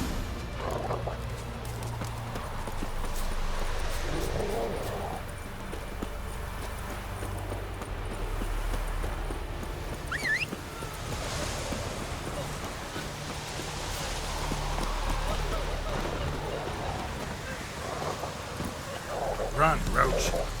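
Roach the horse gallops in The Witcher 3, steady hoofbeats drumming at a moderate distance over wind and ambient outdoor noise for the whole stretch.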